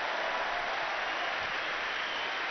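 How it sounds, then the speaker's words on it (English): Spectators at a London 2012 Olympic men's table tennis match applaud at an adjoining table, a steady, fairly distant wash of clapping from the arena crowd that runs through the whole moment. "The applause was not for the mistake, it's for something happening on an adjoining table."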